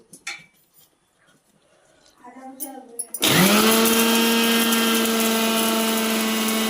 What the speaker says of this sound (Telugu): చూడండి, మిక్సీ పట్టేసుకున్నాము.